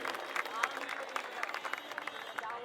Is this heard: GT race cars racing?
no